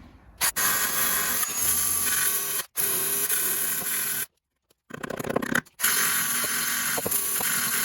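A rusty sill end section on a Volkswagen Polo Mk2 breadvan is cut out for welding. Harsh, loud, hissing cutting noise runs in long bursts, broken by two brief pauses, and no one speaks.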